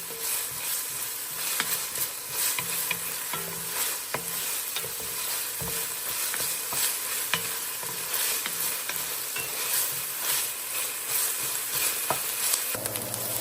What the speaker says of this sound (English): We're going to start cooking these onions up.